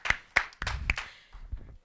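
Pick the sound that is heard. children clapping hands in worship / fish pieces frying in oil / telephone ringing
children clapping hands in worship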